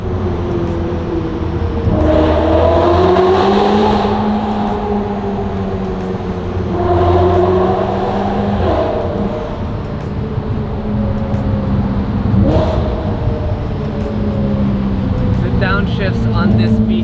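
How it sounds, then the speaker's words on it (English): Pista sports car downshifting, with repeated engine rev blips that rise and fall in bursts every few seconds over a steady road drone, heard from inside the cabin. "Downshifts on this Pista is insane."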